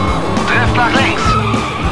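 Car drifting in the video game Stuntman Ignition, loud tire squeal and skidding over a revving engine, sustained for a couple of seconds with rising and falling pitch.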